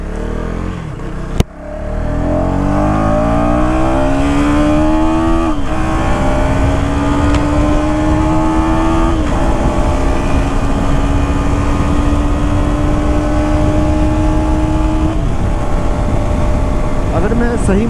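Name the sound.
KTM Duke 250 motorcycle riding in track mode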